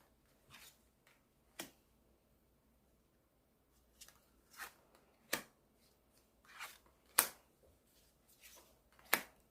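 Tarot cards are shuffled and handled close up in soft, scattered bursts of riffling and flicking, quiet with short pauses between them.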